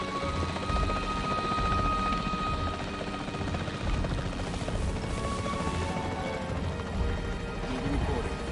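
A capture team helicopter in a zoo-management video game, a steady loud rotor drone that fills the whole stretch without pause, with a voice speaking over it.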